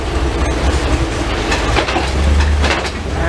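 Eurotunnel shuttle train moving, heard from aboard: a loud, steady rumbling roll with rhythmic clickety-clack of wheels over the rails, no voices.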